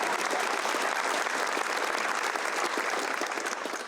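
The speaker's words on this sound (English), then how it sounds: "Haley, you can clap for her." Audience at a school scholarship awards night applauding a recipient, a dense, sustained burst of clapping that holds steady and slowly tapers toward the end.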